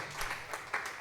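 Applause from a seated audience at a church seminar, a short run of mixed clapping from many hands, moderately loud and fairly steady throughout.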